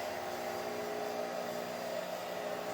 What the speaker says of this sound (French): De l'autre côté, j'ai mis le séchoir de cheveux.